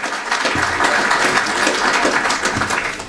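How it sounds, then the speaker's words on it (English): A breakfast ceremony audience applauds in a dense, steady wash of clapping that holds evenly for a few seconds at moderate loudness. "Let's give Maricela a hearty round of applause."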